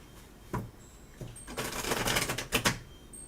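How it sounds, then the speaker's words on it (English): Tarot cards are shuffled on a table, giving soft riffling bursts: two brief flicks, then a longer run of rapid fluttering clicks and a final pair of sharp riffles, close and fairly quiet. "I'm actually shuffling on the table."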